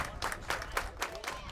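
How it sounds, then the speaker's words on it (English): Spectators at a high school baseball quarterfinal clap in a steady, rhythmic pattern, roughly four to five claps per second, moderately loud and slightly distant, with crowd murmur underneath. "Claps continue."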